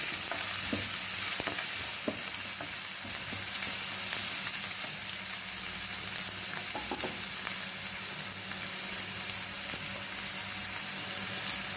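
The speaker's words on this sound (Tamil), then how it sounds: "இந்த பச்சை வாசனை போகிற வரைக்கும் நல்லா வதக்கிட்டு" Small onions sauté in a pan for a paruppu urundai kulambu, giving a steady close sizzle and crackle with occasional stirring sounds and no talking.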